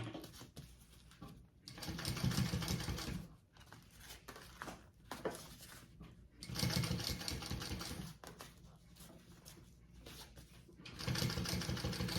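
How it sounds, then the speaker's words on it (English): A sewing machine top stitches along the bottom zipper piece of a sling backpack, running in several close, rapid mechanical bursts separated by brief pauses as the fabric is repositioned. "we are going to top stitch along our bottom zipper piece"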